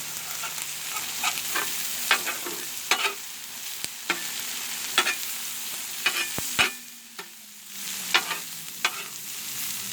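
Shrimp frying in butter on a Blackstone griddle, a constant crackling sizzle broken by sharp spatula clicks and scrapes, close and fairly loud.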